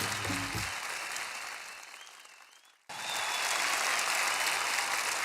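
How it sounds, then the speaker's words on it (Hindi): An audience gives loud, sustained applause for two children after their stage performance, dense clapping that dips briefly and then resumes at full strength. "जोरदार तालियां बच्चों के लिए"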